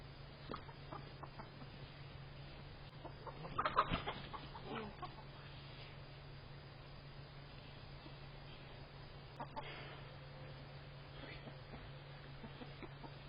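Chickens in a backyard coop cluck softly and far off, with one brief flurry of clucks over a steady low hum and long quiet stretches.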